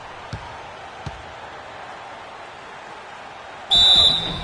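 A referee's whistle at a basketball game blows one sharp, loud shrill blast near the end, after faint thuds of play and a steady crowd murmur.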